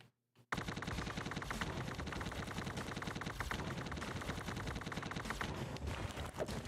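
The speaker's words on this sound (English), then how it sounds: "Machine gun time." Rapid, continuous machine gun fire from the G.I. Joe: Wrath of Cobra video game, a dense unbroken stream of loud shots starting abruptly after a brief silence and running to the end.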